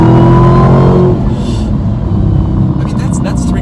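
A Dodge Demon muscle car engine roars loudly at three-quarter throttle from inside the cabin, a rising rev that drops into a lower rumble, with voices talking over it.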